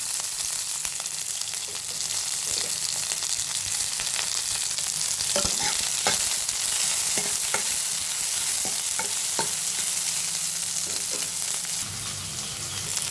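Onions and green chillies fry in hot oil, giving a loud, steady sizzle throughout, with occasional sharp clicks and scrapes of a spoon stirring the pan.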